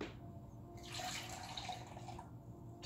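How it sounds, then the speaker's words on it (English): Water pours from a tap into a container holding vinegar for fabric dyeing, a close, quiet splashing gush that swells for about a second and a half and then stops, with no talk. "And then I'm adding some water"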